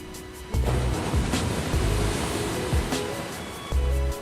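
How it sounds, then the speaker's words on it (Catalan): Ocean waves breaking and washing in against the shore, a steady roar of surf with heavier crashes every second or so. "el soroll de les onades que trenquen contra les"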